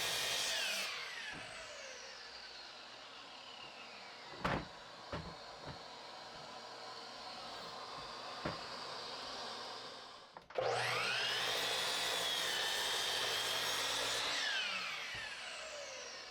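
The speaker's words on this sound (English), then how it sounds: "On the miter saw, snip off both sides of the top, and same for the seat parts, but just one side." Miter saw cutting wooden bench parts: two long whining motor runs with blade spin-down, separated by a few sharp knocks and clatters of wood being handled, fairly loud and close, no talking.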